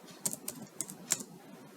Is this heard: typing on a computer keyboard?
yes